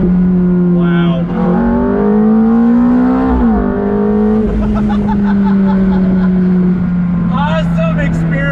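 A 2005 Ferrari F430 Spider engine revs hard and climbs through the gears, loud and close, with rising pitch sweeps between shifts.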